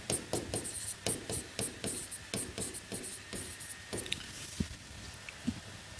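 Pen or pencil scratching across paper while notes are taken, a steady run of short close strokes with brief pauses and a couple of soft taps near the end.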